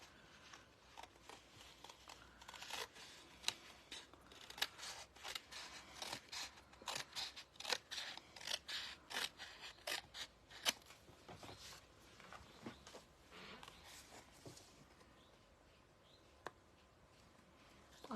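Scissors snip through paper and an envelope while a lattice greeting card is made, giving a run of sharp, irregular close cuts and rustles that fade to sparser snips near the end.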